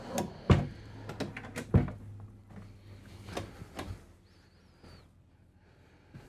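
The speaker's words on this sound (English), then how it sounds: "You'll notice as I'm opening these drawers, full extension drawer glides" Several drawers on full-extension glides with dovetail construction slide open and shut in quick succession inside a 2025 Renegade Verona motorhome, each with a short rolling glide and a soft knock, close by in a quiet room.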